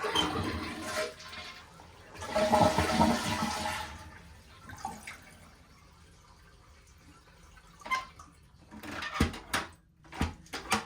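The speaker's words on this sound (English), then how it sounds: "we're just going to flush the leftover water out of the tank" A household toilet flushes with its water supply shut off, draining the leftover water from the tank in a loud rushing burst that fades to gurgles, followed by a few sharp clunks and handling noises nearby.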